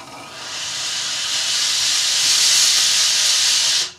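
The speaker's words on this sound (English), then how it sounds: "with inside the body of this machine, they generate tons and tons of steam, so that when you go for it, it looks like this" Steam generator iron releasing a long, loud hiss of steam that swells and holds for several seconds, then cuts off sharply.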